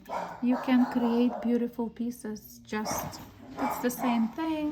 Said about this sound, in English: Sorry for my dog, he's sometimes crazy.